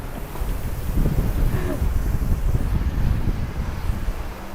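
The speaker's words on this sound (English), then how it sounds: "Oh, it's a windy street." Strong wind buffets the microphone along a city street in Wellington, a steady rumbling roar that swells and gusts throughout with no voices.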